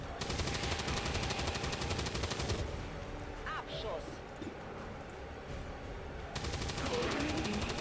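Sustained automatic gunfire from XCOM 2 empties two full clips in long rapid bursts, loud and close, breaking off for a few seconds in the middle while a voice talks, then resuming at full intensity.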